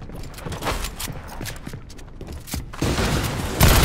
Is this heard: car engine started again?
no